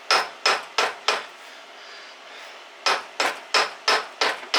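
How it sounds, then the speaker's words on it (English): A hammer strikes a stuck piston in a Kawasaki KLT110 engine during teardown: four sharp, evenly spaced metallic taps, a short pause, then five more, loud and close with no talking. "I think I'm going to give it a couple love taps here."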